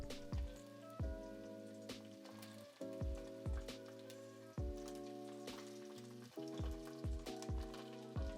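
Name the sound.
frying in olive oil in a pan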